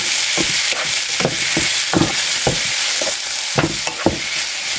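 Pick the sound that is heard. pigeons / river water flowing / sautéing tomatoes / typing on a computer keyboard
sautéing tomatoes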